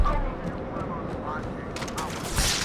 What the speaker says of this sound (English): The Carbine, which is basically the Covenant battle rifle. It's a single shot, headshot capable.